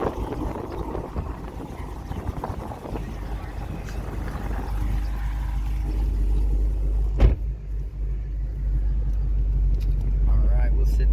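A 1000 HP ProCharged Camaro SS pulls away with a loud, steady low engine rumble heard from inside the car, with one sharp thump partway through and a voice speaking over it.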